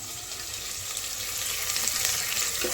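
Mint and green chillies fry in a pan with a steady, close sizzle and light stirring throughout, and no one speaks.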